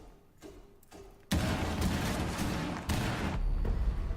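Breach charge detonating in a video game on the Bartlett University map: a sudden, loud blast that turns into a dense rumble of debris, followed by a second heavy burst over a second later.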